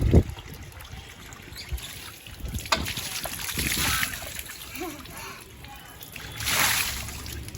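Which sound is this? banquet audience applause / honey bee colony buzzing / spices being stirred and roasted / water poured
water poured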